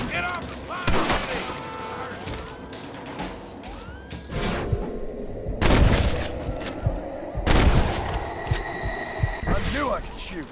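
Gunfire in a Red Dead Redemption shootout: several loud, sharp shots crack out at irregular intervals over a busy, rumbling game soundscape, with voices talking between the bursts.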